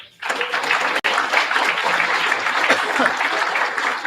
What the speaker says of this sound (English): let's give them a warm round of applause for being here